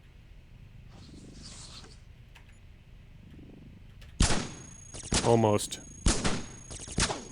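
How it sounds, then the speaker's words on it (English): Antimatter cannon fire in the Cogmind video game, a run of loud sharp blasts in close bursts after a quieter stretch, with a person speaking briefly. "I will use an antimatter cannon."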